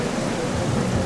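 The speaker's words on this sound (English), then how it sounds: "It's raining." A short burst of heavy rain with a low rumble of thunder, dense and steady, in the video game Twilight Princess HD.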